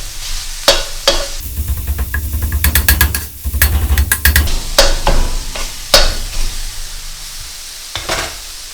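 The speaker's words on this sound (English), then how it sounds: "I'm going to start chopping away." Cheesesteak meat chopped on a sizzling griddle: steady frying hiss under repeated sharp metallic spatula chops and scrapes, clustered in bursts, loud and close.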